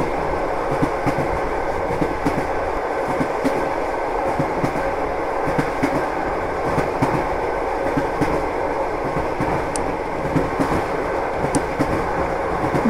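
A train rolling along rails in the video game Melon Playground, a steady rumbling run with rhythmic clicks from the wheels, continuous and fairly loud throughout with no one talking.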